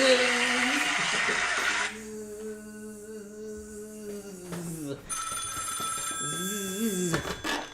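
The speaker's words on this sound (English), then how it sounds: "Well, the phone's ringing again." A telephone rings with a repeating electronic trill, moderately loud, while people talk around it.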